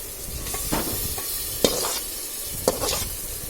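Pulicha keerai (sorrel leaves) hiss and sizzle in a hot pan while being stirred, with a steady frying crackle and a couple of sharper scraping knocks from the spoon.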